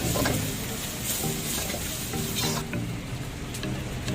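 Ground garlic and ginger sizzle and fry in a pan for Chicken Manchurian, a steady crackling hiss with occasional stirring scrapes, close and moderately loud, with no talk.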